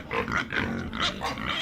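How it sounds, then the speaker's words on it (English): A farm pig grunts in a quick series of rough, snorting grunts, fairly close and steady in loudness, with no talking. "Pig,"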